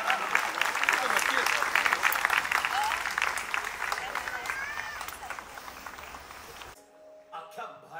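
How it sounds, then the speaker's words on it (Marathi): A large audience at the Kala Ghoda Arts Festival 2024 opening ceremony claps loudly and continuously with scattered voices, then the applause thins and cuts off abruptly near the end. "मित्रांनो, आता टाळ्या थांबवायच्या नाहीयेत"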